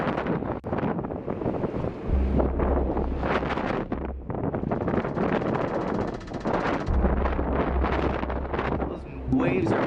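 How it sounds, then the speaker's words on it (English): Strong wind of about 70 km/h roars and buffets the microphone at a lighthouse on a stormy shore, with large waves nearby. The gusts surge and ease throughout while a voice talks over them. "Right now the winds are at about 70 kilometers an hour. It is windy out here."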